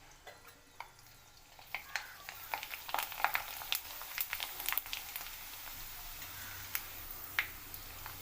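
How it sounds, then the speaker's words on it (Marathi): Kurdai frying in hot oil, a steady soft sizzle with scattered crackles and pops building up and continuing at moderate volume. "आपण लगेच कुरडई तळून घेऊया तर तेल आपलं मस्त गरम झालेलं आहे"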